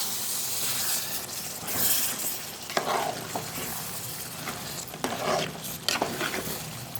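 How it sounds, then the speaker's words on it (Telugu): Sand whiting fish, brinjal and tomato curry being stirred in a pan, a steady soft sizzle and hiss with intermittent scraping strokes of the spoon, close and continuous with no talk. "ఒకసారి కలుపుకుందాం అన్నీ కలిసేలాగా"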